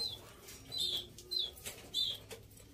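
A small female canary in a cage flaps its wings, making soft fluttering bursts mixed with faint chirps, quiet and close.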